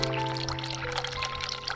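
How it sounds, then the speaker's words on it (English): Cold tap water runs from a faucet into a sink in the horror game The Cat Lady, a steady soft splashing stream under a low hum, with no talking. "Turn on the cold water."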